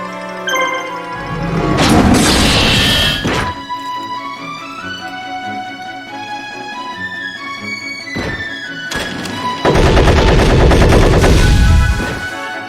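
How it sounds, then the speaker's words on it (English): The Robotic Knight in the Yu-Gi-Oh! Falsebound Kingdom video game fires its cannon in loud bursts of rapid gunfire-like blasts, two heavy volleys separated by a stretch of game music and electronic tones. "I love how Robotic Knight just uses its cannon and even though it clearly carries a saber."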